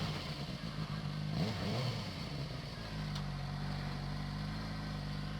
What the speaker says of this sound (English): He's revving his engine though